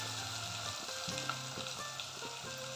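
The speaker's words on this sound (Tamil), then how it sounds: "குக்கரில் தாளிக்க போகிறேன்." Spices tempering in hot oil inside a pressure cooker for mutton gravy, a faint, steady sizzle with soft rhythmic stirring scrapes, close but quiet throughout.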